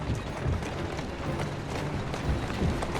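Horse hooves clip-clop at a steady trot through a Victorian London street in Assassin's Creed Syndicate, a continuous mid-level rhythm blended with carriage rumble and ambient street noise.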